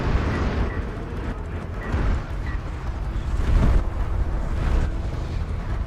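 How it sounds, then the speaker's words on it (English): Siege cruiser artillery barrage in the real-time strategy game Deserts of Kharak, a rumbling wash of low booms and impacts rolling in waves, steady and dense with no talk. "Barrage right here with the siege cruiser would be huge."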